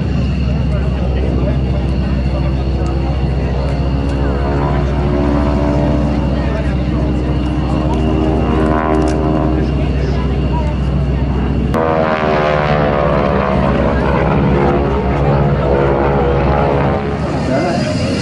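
A loud, steady propeller aircraft engine drones with rich harmonics, shifting tone partway through as the plane passes nearby at an air show at Saint-Dizier air base 113.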